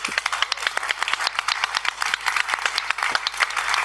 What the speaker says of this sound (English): let's have again a well-deserved round of applause for all these change makers